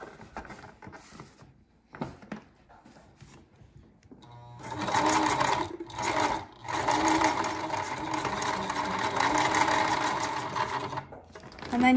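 Sewing machine stitching a handle onto a bag made from a grain feed sack, running in a steady close whirring burst after a few brief starts and stops.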